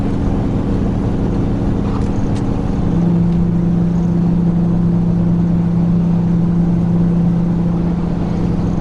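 A 2020 Ford F350 Super Duty with the 7.3 engine labors steadily while towing an RV up a long hill, a continuous low drone that deepens and strengthens partway through as the load increases.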